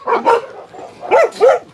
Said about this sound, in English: as soon as I turn around, he's back at barking again